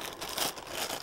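A thin vinyl kitchen glove crinkles briefly as it is pulled onto a hand while making dough for Korean chive pockets, a soft, rustling burst at close range.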